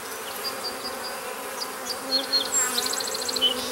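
Honey bees buzz steadily around an open hive while burr comb is scraped from the top, a continuous low-level drone with brief higher-pitched whines from individual bees passing close.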